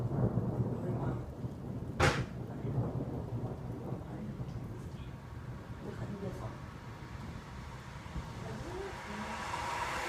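A thunderstorm heard outdoors: a sharp crack of thunder early on, followed by steady rain and a faint low rumble, fairly quiet overall with a voice speaking now and then.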